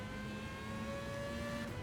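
A race car in Gran Turismo 7 drives around a track, its engine giving a steady, loud droning whine with tonal harmonics throughout.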